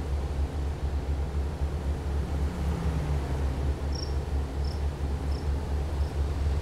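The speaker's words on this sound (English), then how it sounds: "So I just hear crickets." Faint, sparse high chirps like crickets over a constant low rumbling drone, with no talking, in the video game American Truck Simulator.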